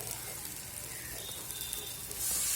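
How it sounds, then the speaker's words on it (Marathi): Masala of onion-garlic spice mix, red chilli powder and turmeric sizzles steadily in hot oil for a sprouted matki curry, a close, even frying crackle that swells louder near the end. "चांगलं फ्राय करून घ्यायचं"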